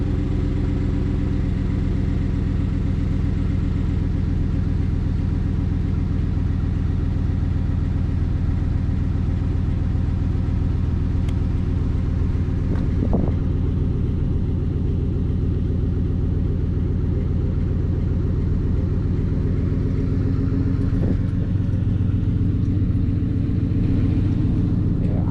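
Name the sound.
Chevrolet Silverado engine cold start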